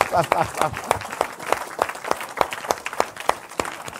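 Church congregation claps in a steady, loud burst of applause, many hands striking together with regular sharp peaks, mixed with voices and laughter in the room.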